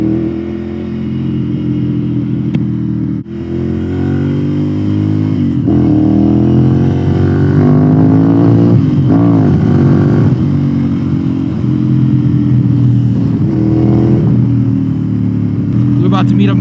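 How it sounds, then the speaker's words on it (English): Motorcycle engine running steadily while riding, a loud continuous drone with rising and falling pitch as it revs, heard close throughout with wind noise. "That's what the bike sounds like."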